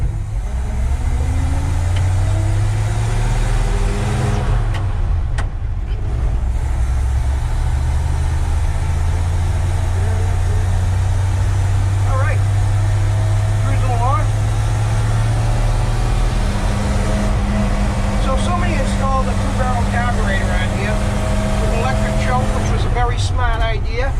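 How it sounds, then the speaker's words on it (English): A 1948 truck with a non-synchromesh transmission drives along, its engine droning loudly and steadily with shifting whining tones as gears change, and a voice talks briefly over the running engine. "That's the sound it makes when you don't have a synchronous transmission."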